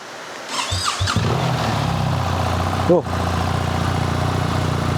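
A 1300 motorcycle engine starts with a few sputters, then settles into a steady, close idle with a brief squeal partway through, and a voice briefly exclaims.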